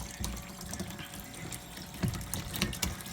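Water draining out of a home water heater through a makeshift rig, a continuous close splashing, gurgling flow with brief louder sloshes.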